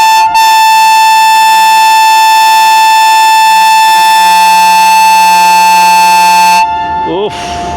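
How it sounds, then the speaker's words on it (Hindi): A Blue Tiger diesel locomotive blares its air horn at Nawabshah railway station platform, one long, very loud, sustained multi-tone blast lasting several seconds before it cuts off abruptly. "ब्लू टाइगर का चिंघाड़ता हुआ हॉर्न आपने सुन लिया"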